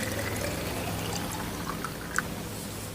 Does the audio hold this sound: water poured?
yes